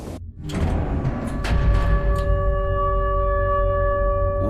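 A train in the Garten of Banban video game rumbles steadily along, with rushing whooshes and screeching metallic tones that settle into a sustained humming drone as it slows and comes to a stop.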